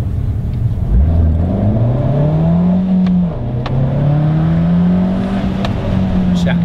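An Abarth 595C Competizione, 180 hp turbo, revs up close, its engine note rising and holding in steady sweeps as the turbo comes in, loud and continuous with a faint voice underneath.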